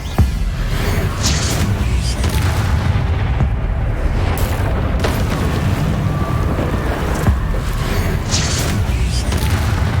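Spell blasts from Confringo and Bombarda in the Hogwarts Legacy game: loud, dense booming and crackling explosions with rumbling, over a continuous roar and with no clear gaps.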